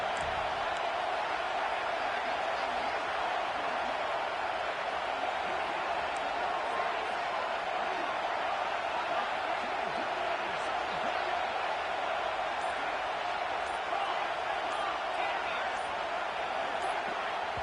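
A stadium crowd roars in the NCAA 26 football video game as the home fans rock the place on a fourth-down play: a dense, steady wall of cheering noise that holds at full volume throughout.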